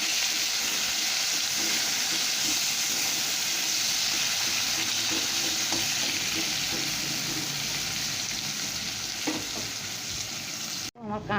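Bitter gourd (kakrol) frying in plenty of hot oil, a loud, continuous close-up sizzle that holds steady throughout and cuts off abruptly with a brief clatter at the very end.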